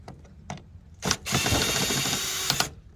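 A screwdriver backs screws out of a car's third brake light, giving a close, steady ratcheting whir for about a second and a half after a few small clicks and knocks.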